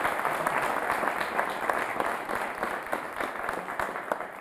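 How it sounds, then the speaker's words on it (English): An audience at a debate on examinations in Nigeria applauds a speaker, Dr. Sodunke, with steady clapping from a fairly distant crowd that carries on throughout. "A round of applause again for Dr."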